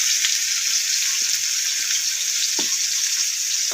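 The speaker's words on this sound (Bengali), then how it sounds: "ছোটো আলু হাফ হাফ করে কেটে নিয়েছি, এবার সিদ্ধ করে নিয়েছি, এবার ভেজে নিচ্ছি।" Halved boiled small potatoes fry in oil with a steady, close hiss of sizzling and occasional soft pops or stirring touches, carrying on unbroken with no voices.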